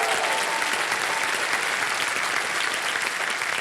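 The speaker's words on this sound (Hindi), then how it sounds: "तालियां बज जाए इनके लिए।" Studio audience at the KBC quiz show breaks into sustained, steady applause welcoming a contestant, a dense wash of clapping that holds evenly for several seconds with no voices over it.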